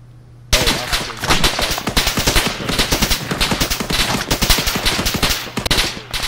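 Rapid, loud bursts of automatic gunfire from a gun strike in the military video game ArmA 3, dense overlapping shots that rattle on almost without pause after a brief quiet start.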